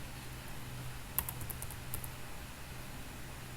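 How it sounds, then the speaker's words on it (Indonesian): A few quick keystrokes tap on a computer keyboard in a short cluster, faint and close, over a steady low background hum. "Kita ketik saja poin."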